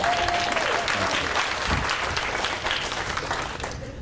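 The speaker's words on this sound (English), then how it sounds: "How about another round of applause?" A keynote audience applauds steadily, a dense wash of many hands clapping continuously at fairly close range, with a faint voice briefly under it and the clapping thinning slightly toward the end.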